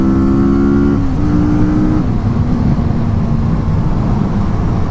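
A 2016 Kawasaki Vulcan S motorcycle accelerating on a highway, its loud engine drone climbing in pitch through gear changes under heavy continuous wind rush, no voices.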